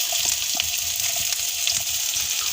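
Carrots sizzle in hot ghee in a frying pan, giving a loud, continuous crackling hiss close by with small popping spatters.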